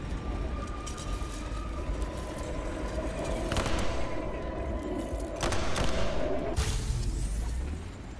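Tommy gun fire in the detective game Nobody Wants To Die, loud crackling bursts over a steady rumbling ambience, with sharp volleys near the middle and again toward the end.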